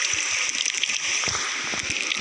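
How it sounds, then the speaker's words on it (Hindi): Water runs out in a continuous splashing, gurgling flow, close and steady for the whole stretch, with no talking. "इधर से पानी आ रहा है, इधर भी ना"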